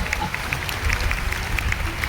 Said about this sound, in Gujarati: તાળી બધાય